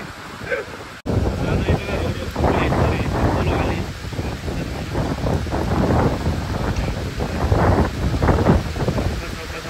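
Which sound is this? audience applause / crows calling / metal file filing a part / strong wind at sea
strong wind at sea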